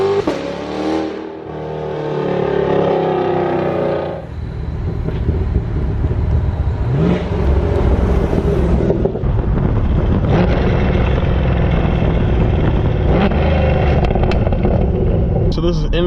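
Chevrolet Corvette C8 with LTH headers driving in manual mode, its exhaust giving a steady, aggressive engine drone from inside the cabin with a rev change partway through, while someone talks over it throughout.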